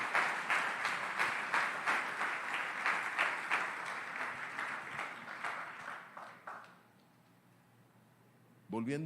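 A church congregation applauding, a dense burst of clapping from many hands that rolls on for several seconds and then dies away into quiet, with a voice beginning to speak at the very end.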